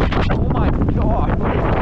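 Headwind buffets the microphone during a mountain bike enduro practice ride at Sugarloaf, a loud, constant, close roaring rumble with voices faintly mixed in.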